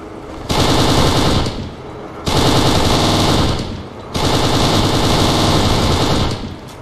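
A light machine gun fires in the shooter game Kane & Lynch 2: Dog Days, three loud sustained bursts of rapid automatic fire separated by short pauses, close and dominant, with no talk.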